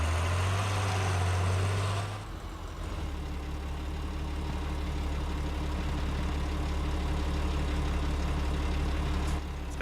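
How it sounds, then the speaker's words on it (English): A vehicle engine idles in a competitive video game match, a steady low rumble throughout with no talk; the pitch shifts slightly about two seconds in and then holds constant. "He's got to shut that engine off"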